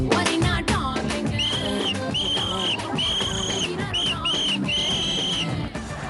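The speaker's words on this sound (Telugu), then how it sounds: "నా విజిల్ నన్ను కాపాడింది." A whistle is blown on a Telugu TV game show stage. It sounds as a series of sharp, shrill blasts, some short and some held, loud over a dense bed of music and studio noise.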